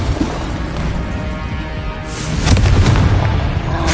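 Incendio fire spell cast in Hogwarts Legacy: a loud, full burst of fiery whoosh and boom rising midway and sustained, over continuous dense game sound, with no talking.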